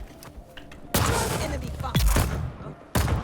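Turret gunfire in the Dune Awakening video game comes as sharp, loud blasts followed by rattling volleys, with a deep thumping impact midway and another burst near the end.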